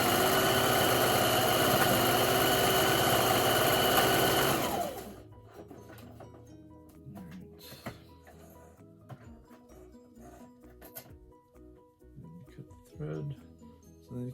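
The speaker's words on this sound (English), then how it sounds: "So I'm just going to sew all the way through and then back stitch." A sewing machine stitches a seam along the bottom edge of a fabric mask hood, running loud and steady for about five seconds before stopping, then quieter handling clicks and rustles follow.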